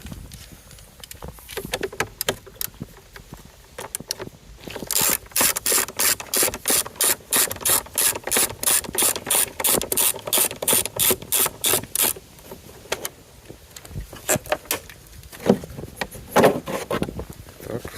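A ratchet undoes bolts on the air filter housing of a BMW E46 320d 2.0 diesel, with bursts of rapid, evenly spaced clicks close by, one long run in the middle and shorter scattered runs around it.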